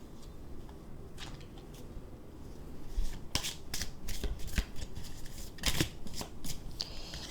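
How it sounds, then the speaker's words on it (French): Archangel oracle cards shuffled and drawn by hand, a steady papery riffle that grows louder and busier halfway through, with sharp card slaps and flicks standing alone without speech. "je vais prendre une carte de l'archange Raphaël"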